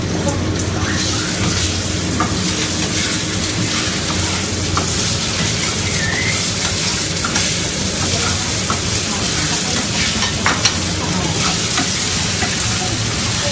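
Tofu stir-fries in a pan for pad thai with a loud, continuous sizzle like heavy rain, and a spatula occasionally scrapes and stirs.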